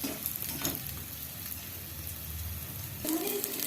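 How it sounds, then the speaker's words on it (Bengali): Edible gum pieces fry in ghee in a pan, a quiet steady sizzle with faint crackling throughout, and a scrape of stirring near the end. "গঁদটা ভাজা হয়ে গেছে, এবার আমি নামিয়ে নেব।"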